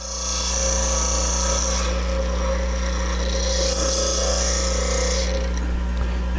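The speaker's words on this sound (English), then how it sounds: "now we'll grind that relief and also grind that corner" A bench grinder steadily grinds the fingernail profile and relief corner onto a woodturning gouge, a continuous loud rasping whine with slight shifts as the tool is rolled against the wheel.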